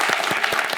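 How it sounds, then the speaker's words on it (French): A studio audience on a French television quiz show claps briefly, a dense wash of hands with a few rhythmic accents, fairly loud and close, over less than a second with no clear speech. "Alors, je crois qu'on peut applaudir, Thierry."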